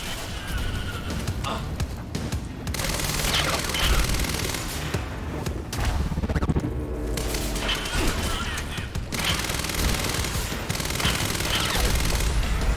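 Sustained gunfire in the video game Quantum Break, with dense rapid shots, crashes and impacts packed together continuously at high loudness.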